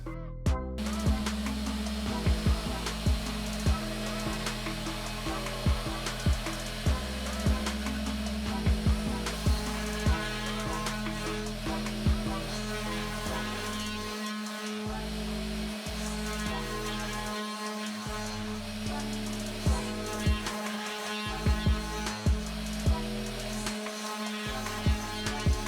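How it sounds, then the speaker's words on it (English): A 3018 CNC machine spindle running at 12,000 RPM mills a board, giving a steady high whine with a tonal hum, rhythmic periodic cutting pulses and brief drops as the tool moves, continuous and close. "The spindle was in full speed on 12k RPMs."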